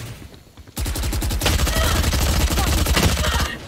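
Rapid bursts of gunfire from the video game Valorant crackle in a dense, loud stream after a quiet opening, each shot a sharp repeated crack.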